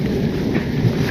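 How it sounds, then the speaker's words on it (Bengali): A low, rolling rumble of thunder, heavy and continuous, with faint hiss over it and no voices. "মেঘের গর্জন"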